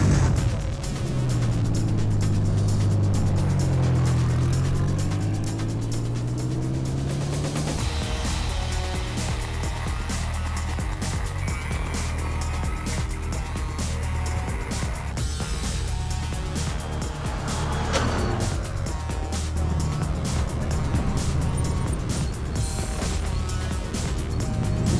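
Race car engines fire up and run loudly on a track, a low revving roar that sweeps upward at first and then settles into a dense, sustained buzz with rough, crackling texture throughout.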